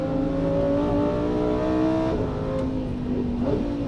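A Lamborghini Huracan EVO's engine sings on the Nordschleife, a loud close steady tone at sustained revs that shifts pitch briefly before settling again.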